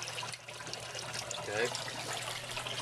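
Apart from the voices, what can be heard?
water flowing out of algae scrubber emergency drain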